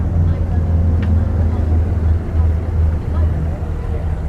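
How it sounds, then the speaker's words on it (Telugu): A steady low engine drone runs throughout, like a boat motor idling nearby on the water in Dubai, with faint background voices. "అది బోట్ అయితే స్టార్ట్ అయిపోయింది"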